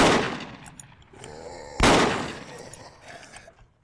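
Shotgun fire in the zombie survival game Project Zomboid: one heavy blast just before the two-second mark that decays over a couple of seconds, over a dim background of fainter game noise.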